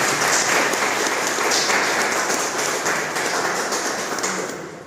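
A church congregation claps loudly in a sustained, even burst of applause after a scripture reading, fading slightly toward the end.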